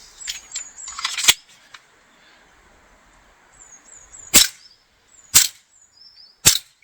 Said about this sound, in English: a few rapid shots and then let it warm up a bit